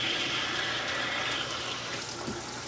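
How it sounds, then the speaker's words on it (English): Cold tap water runs steadily over the lid of a small pressure cooker at a kitchen sink, a continuous close hiss of splashing water with no speech. "run cold water over the lid so that it cools quicker"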